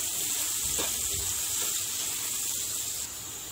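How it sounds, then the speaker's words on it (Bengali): Two small potatoes fry in hot oil for about two minutes in a curry pan, giving a steady, close sizzle and hiss that runs unbroken and fairly loud, easing slightly toward the end. "আলুটাকেও আমি একটু 2 মিনিটের মতো ভেজে নিচ্ছি"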